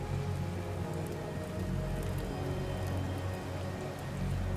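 Steady rain patters down through a night scene in the video game Kingdom, a dense continuous hiss that holds even and unbroken over a low, constant rumble, with nobody speaking.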